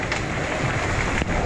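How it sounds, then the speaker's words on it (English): Dense patter of hail pelting car windows during a windstorm, a constant close clattering hiss over a short burst, with no voices. "Now it's hailing."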